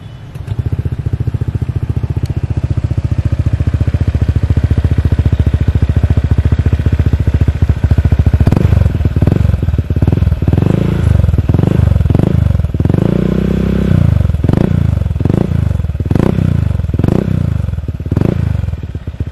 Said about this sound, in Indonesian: Ntar kita coba kayak apa bunyi dari Honda PCX berwarna red candy ini